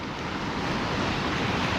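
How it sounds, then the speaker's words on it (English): Large waves churning and crashing against the end of a harbour wall, a loud, dense, continuous roar mixed with wind buffeting the microphone. "Some of these waves are churning and rolling in, look, hitting the end of the harbour wall."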